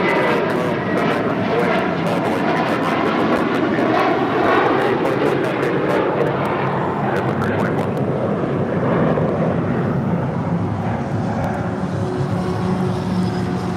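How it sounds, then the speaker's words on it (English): An airliner in Mint livery takes off from LAX bound for JFK, with a loud, steady jet roar that slowly shifts in tone, heard beneath radio chatter and talk. "First mint livery is taking off to JFK"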